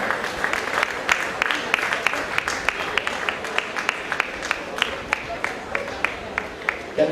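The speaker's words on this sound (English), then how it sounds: "Can we please put a round of applause for Mr." An audience applauds a scoreboard official at a men's final of a basketball league, a thinning round of claps with distinct individual hand claps in a rhythmic pattern, moderately distant, with faint crowd voices beneath.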